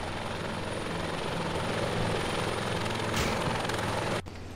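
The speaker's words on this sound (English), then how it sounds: "Chopper, fly, fly, fly." Helicopter rotor beats in a steady, loud, rapid thump-chop close by, then cuts off abruptly near the end.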